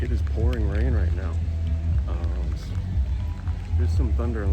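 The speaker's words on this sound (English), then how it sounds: "It is pouring rain right now." Steady rain pours down as a broad hiss, with a person talking over it throughout; distant thunder and lightning are around.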